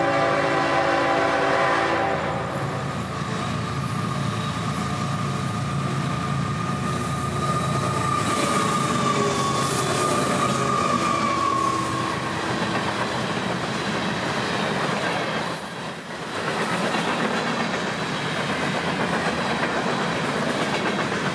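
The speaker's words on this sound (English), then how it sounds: "At 10 p.m. on the dot, 206 would arrive, with 821 leading a long train as advertised" Florida East Coast Railway freight train 206, a long mixed freight led by locomotive 821, passes at track speed at 10 p.m. It makes a loud, continuous rumble with steady clickety-clack of the wheels and horn tones throughout, close and alone.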